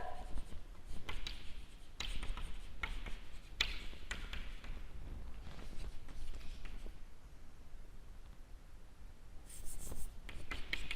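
A pen scratches and taps across paper while a truth table is written out for a propositional logic lesson, giving close, quiet strokes in short irregular bursts with brief pauses between them.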